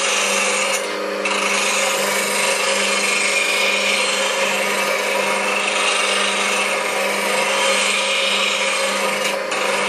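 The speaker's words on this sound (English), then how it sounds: "find you have to grind heavier on the sides, a little lighter across the nose" A grinder sharpens a bowl gouge held in a sharpening jig, with continuous, close, loud abrasive grinding that runs almost unbroken throughout.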